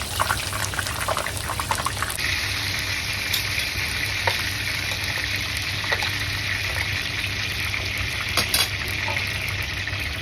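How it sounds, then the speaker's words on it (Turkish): Steady hissing sizzle of eggplant frying in hot oil, with occasional pops and crackles throughout and no voices. "Şimdi patlıcanı kızartıyorum."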